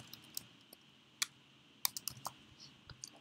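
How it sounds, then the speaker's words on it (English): Fingers typing on a computer keyboard, a handful of light, scattered key clicks up close against a quiet background. "just type it into the search bar here"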